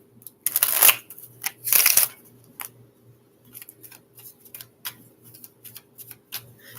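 Tarot cue cards shuffled by hand, two loud riffling bursts up close followed by lighter flicks and taps of the cards over a faint steady hum.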